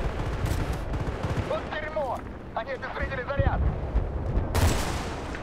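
Gunfire in Battlefield: Bad Company 2, with scattered shots and bursts under a voice, then a loud blast near the end.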